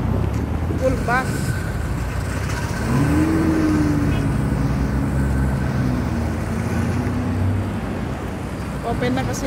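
Heavy road traffic on a busy street in Fahaheel, Kuwait, a continuous rumble of cars with a vehicle accelerating and swelling past mid-clip; wind buffets the microphone.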